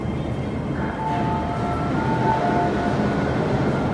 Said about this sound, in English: here's the fourth train for this side for the platform